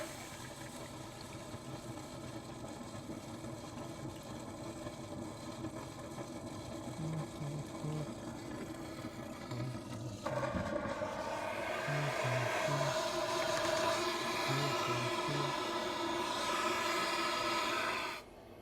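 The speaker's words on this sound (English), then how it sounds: "while we got the suction of that vacuum pulling through" A vacuum suctions an A/C condensate drain line while water is flushed through it, giving a steady whining motor drone that grows louder and harsher partway through, then cuts off near the end.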